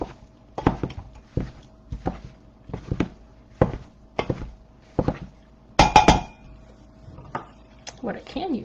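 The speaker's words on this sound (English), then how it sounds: "So I'm using the Mix and Chop, and we're going to just kind of break up the meat" A Mix and Chop tool breaking up ground meat for meatballs in a pan: about a dozen distinct scraping clanks at a steady, roughly half-second rhythm, close and fairly quiet, with one louder clatter near the end.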